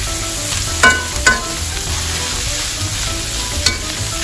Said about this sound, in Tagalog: Iprito-prito rin natin ang laman ng bangus.